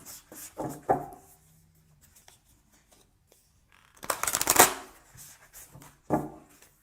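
Tarot cards are shuffled and one is picked, with a few crisp riffling bursts near the start, a longer loud flutter of cards midway and a final snap, close up with quiet pauses between.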